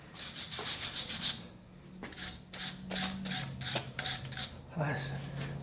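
Brush scrubbing the brake pad seats on a 2015 Mercedes-Benz ML 350 rear brake, quick close rhythmic rubbing strokes in short bursts, with someone talking over parts of it.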